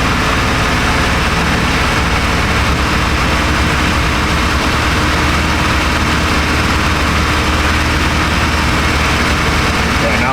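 A 1996 Chevy Astro van engine with a misfire from fuel flooding runs with the revs held slightly up, a loud close steady rumble with uneven low pulsing, while people talk over it.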